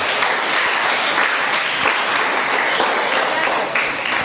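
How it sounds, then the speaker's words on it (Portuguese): Audience applause at an award ceremony, a loud, dense and sustained round of clapping from a crowd, with voices mixed in underneath. "aplauso para o contexto aqui. Aplauso."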